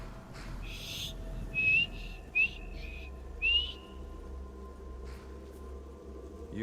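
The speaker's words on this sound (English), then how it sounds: "Let's whistle at him, why not?" A character in the video game Skyrim whistles, a few short, rising chirping notes in quick succession over a quiet, low ambient background with no talk.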